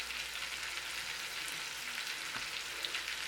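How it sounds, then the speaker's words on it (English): Lamb chops frying over high heat in plenty of butter, a steady hissing sizzle with faint crackles, moderately quiet and continuous with no voices. "right now technically it's frying."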